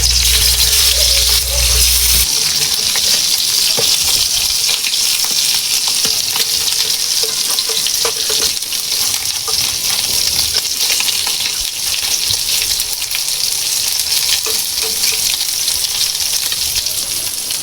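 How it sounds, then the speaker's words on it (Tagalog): Fish fries in a pan with a loud, constant close sizzle and crackle, a low rumble fading out after the first couple of seconds. "Prituin naman natin yung ating isda."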